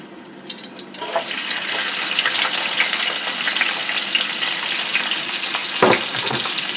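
Chopped onion hits a hot pan for sausage-and-vegetable fried rice and bursts into a loud, continuous sizzle after a few brief clatters, staying dense and close throughout.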